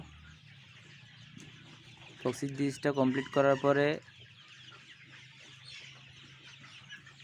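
Sonali chickens about forty-four days old on a poultry farm let out a short burst of loud clucking calls in the middle, over a quiet hum, with a voice speaking softly.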